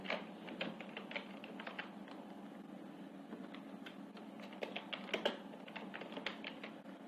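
Rapid clicking on a computer keyboard while renaming an Excel sheet, a quiet steady patter of keystrokes with small bursts, close and without talk.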